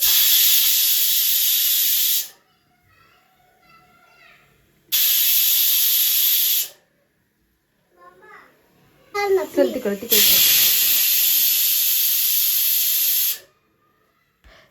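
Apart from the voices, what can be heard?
new pressure cooker whistling and releasing steam while cooking with milk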